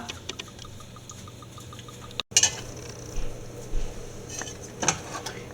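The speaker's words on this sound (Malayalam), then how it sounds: "ഇവിടെ ഒരു പാൻ വെച്ചിട്ടുണ്ട് നമുക്ക് ആവശ്യത്തിന് എണ്ണ ഒഴിച്ചു കൊടുക്കാം" Oil is poured into a pan, a quiet liquid trickle accompanied by a few metallic clinks of the vessel against the pan.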